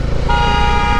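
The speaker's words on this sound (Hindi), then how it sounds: "खामखा का हॉर्न मार रहा है, खामखा का हॉर्न मार रहा है" A car horn blasts on a street, one loud steady toot held close and clear, standing alone without talk.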